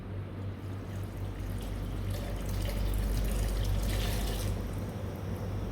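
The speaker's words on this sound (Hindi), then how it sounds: "मैं इसमें थोड़ा सा पानी शामिल करूँगा" Water is poured steadily into a cooking pot of soaked whole masoor lentils, giving a continuous close splashing rush over a low background hum.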